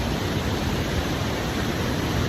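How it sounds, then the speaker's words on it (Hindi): Mountain waterfalls flow down toward the Chenab river along a pilgrimage trail near Padder, a steady, dense rushing roar that stays constant and fairly loud throughout, with no voices. "ये जो सारे झरने हैं ये जाके नीचे चिनाब दरिया में मिल जाते हैं।"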